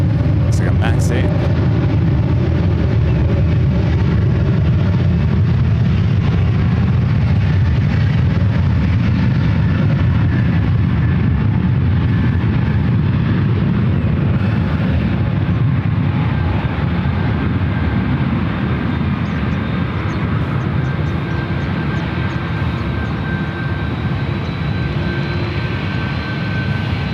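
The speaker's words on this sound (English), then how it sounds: "little drag race on the ones. A Delta A321neo and an Aero Mexico. Looks like a Max 8." A Delta A321neo and an Aeromexico 737 Max 8 take off side by side at San Francisco airport, their jet engines making a loud, continuous, heavy roar that holds steady throughout.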